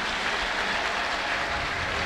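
Congregation clapping at a church service, a dense steady wash of many hands applauding together, close and continuous.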